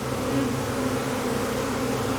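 A dense swarm of bees buzzes close and loud, a continuous droning hum with no pauses.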